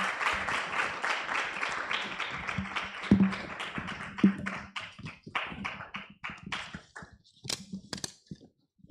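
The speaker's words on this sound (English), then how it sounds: "A round of applause, please." An audience at the Tanzania gender and GBV assessment launch applauds panelists, a burst of many hands clapping that thins out over nine seconds into scattered, fading claps.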